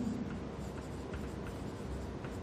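Enzyme name being written on a board, faint scratchy strokes with a quick uneven rhythm, close but quiet, with no speech over it.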